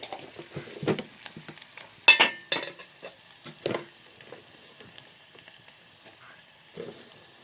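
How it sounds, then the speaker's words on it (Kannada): Fresh curry leaves drop into hot oil and crackle in sharp, spitting bursts. The sizzling is loudest early on, then turns sporadic and fainter with quiet gaps, heard close up with no talking. "ನೋಡ್ರಿ ಇಲ್ಲಿ ಕಡಿಪತ್ತ ಇಟ್ಟು ಹಾಕ್ಲತ್ತೀನಿ"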